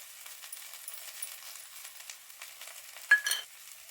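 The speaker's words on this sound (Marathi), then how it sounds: "आता आपण हे भाजी हलवून घ्यायची।" Cluster beans (gawar) frying in a pan with spices give a steady high sizzle under soft scraping stirs, ending in a louder clatter of the spoon against the pan.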